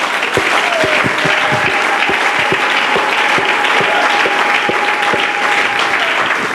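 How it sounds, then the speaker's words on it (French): A church congregation claps loudly during a Sunday worship service, steady dense applause from many people throughout, with a few sharper individual claps and a sustained voice faintly underneath. "Nous acclamons Jésus"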